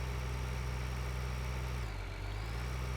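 A tractor engine in the video game Farming Simulator 2013 drones steadily at a low idle, a dense continuous rumble with a slight dip in pitch partway through and no voices.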